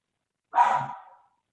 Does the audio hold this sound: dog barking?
yes